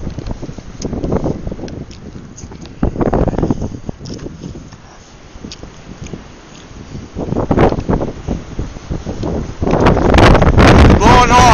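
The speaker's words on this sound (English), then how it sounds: "Wind's picking up again." Blizzard wind gusts loudly across the microphone, swelling and easing in waves before building into a strong, sustained rush at the end.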